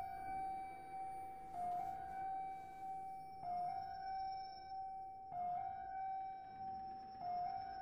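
Wailing ambulance sirens in the video game Reveil, a steady high tone stepping up and down in repeating cycles about every two seconds, sustained and fairly clear over a low background rumble.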